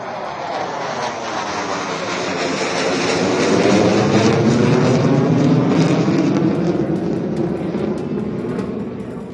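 Indian Air Force fighter jets touching down on the Ganga Expressway airstrip during an air show, a loud sustained jet roar that swells and rumbles for several seconds with no talk over it.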